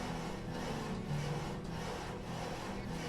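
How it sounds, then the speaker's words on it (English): A steady, continuous rasping and rubbing of logs being sawn at a saw pit in the Banished game, dense and unbroken throughout without pauses, moderately loud and close. "Very slow method of creating lumber by sawing wood logs."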